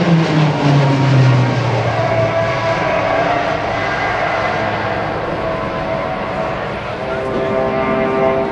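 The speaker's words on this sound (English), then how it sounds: "the pilot will use G-forces to slow the airplane, drop the gear and landing flaps" A navy jet slows to land at the 2010 NAS Oceana airshow with its gear and landing flaps down. Its engine roar is loud and continuous, and the pitch drops early on before the sound settles.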